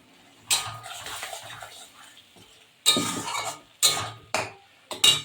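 Chilli paneer sauce with sugar stirred in a pan, with scraping and several sharp clanks of the utensil against the metal, some in quick succession, and a voice talking in between.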